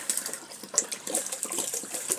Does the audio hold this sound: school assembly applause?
no